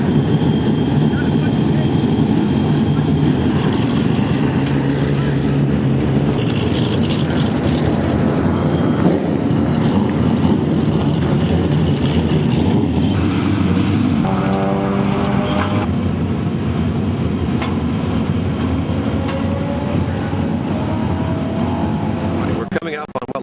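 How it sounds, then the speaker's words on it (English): Sports cars race around a Portland track in a loud, continuous engine roar, with passing cars swelling and fading and brief shifts in pitch, while a person talks over it throughout. "Right outside now, on the track are the Cascade sports car racers"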